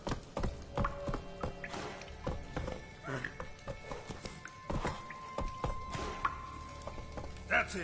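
Horse Roach trotting in the Witcher Wild Hunt video game, a steady run of clip-clop hoofbeats close by with occasional thumps, a voice calling out over the hooves.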